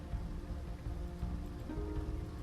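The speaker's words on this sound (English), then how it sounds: "Oh god, let's get into a shelter. It's raining." Steady rain hisses without a break in the survival video game NEO Scavenger, a dense, even wash of patter with no distinct drops or voices.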